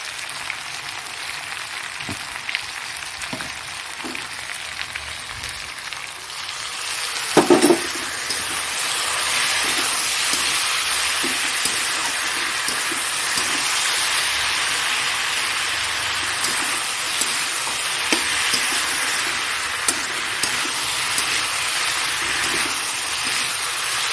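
Curry spices being sautéed in a pan, a broad steady sizzle that swells after a sharp utensil knock and carries scattered clinks of a spoon against metal, with no voices.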